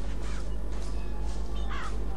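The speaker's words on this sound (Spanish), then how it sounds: "¿Es un cuervo?" Hoarse crow caws in BioShock Infinite, a couple of harsh calls spaced apart over a constant low droning hum, fairly close and moderately loud.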